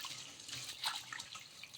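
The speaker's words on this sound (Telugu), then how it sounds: "ఇలా మళ్ళీ ఒకసారి బాగా కడిగేసుకొని వాష్ చేసేసుకొని నీళ్ళన్నీ కూడా వంపేసుకోవాలి." Washing water is poured off soaked rice for a sponge curd dosa, a brief, quiet splashing trickle with a few drips, close by and without talk.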